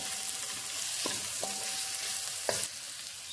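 Kpomo (cow skin) for abacha, Nigerian African salad, sizzling steadily in a pot after being mixed with seasonings, with a few sharp stirring scrapes against the pot over a constant frying hiss.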